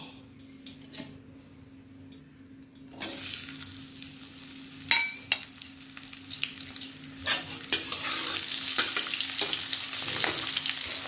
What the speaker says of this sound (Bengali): এইবার কড়াইতে একটু তেল দিলাম, তেল ছিল, তো এর মধ্যে আমি দিয়ে দেব পেঁয়াজ কুচি